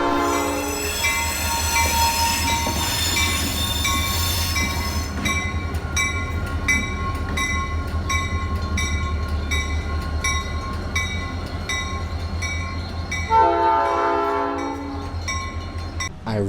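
An old train in New Orleans, running beside the Mississippi River, rumbles along with squealing wheels and steady mechanical drone, a horn sounding briefly near the end; no voices.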